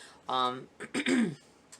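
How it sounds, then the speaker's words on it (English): Someone clears their throat nearby: a short rasping rumble, a pause, then a couple more gruff hacks, quiet overall. "I'm trying to clear my throat here."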